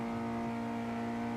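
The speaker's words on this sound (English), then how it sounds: "This car is so loud." A car engine in a western roleplay video game runs loud and steady with a strong, sustained drone that holds close and constant for the whole moment.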